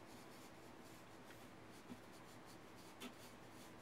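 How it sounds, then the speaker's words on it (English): Soft, steady scratching of a pencil shading on paper, faint and continuous and close, with a couple of slight taps. "we're going to lay the pencil on the paper and start shading like this"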